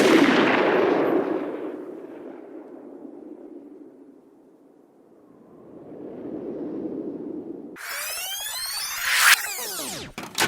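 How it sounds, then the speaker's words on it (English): A single loud gunshot rings out in the Breaking Bad desert scene where Hank is killed, with a long decaying tail that fades to near silence. Rising ambience and sweeping high tones follow. "It's the scene where Jack kills Hank"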